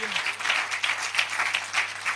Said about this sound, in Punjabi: ਕਿਹਦੀ ਤਾਲੀ ਵਜਾ ਸਕਦੇ ਪ੍ਰਭੂ ਲਈ ਜਾ ਕੇ?